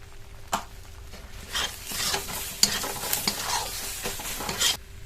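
Chopped onion with turmeric, Kashmiri chilli powder and garam masala being stirred in a hot pan, soft sizzling under repeated scraping strokes of a spatula, close and moderately loud, no voices.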